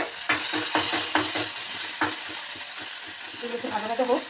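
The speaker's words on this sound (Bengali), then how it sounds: "দুটো শুকনো লঙ্কা দিয়ে দিলাম, ফুটো মেথি দিয়ে দিলাম" Dried red chillies and fenugreek seeds sizzle in hot oil for a dal tempering, with a steady frying hiss broken by a quick run of stirring scrapes and clinks in the pan.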